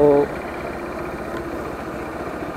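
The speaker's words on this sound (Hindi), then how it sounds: "और ये रेड लाइन 9500 आरपीएम पे कर रही है आरपीएम लिमिटर फिर भी नहीं आ रहा है" A Bajaj Pulsar NS 160 motorcycle engine runs with a steady, close mechanical drone after a short tonal sound at the start, with no clear rise in pitch.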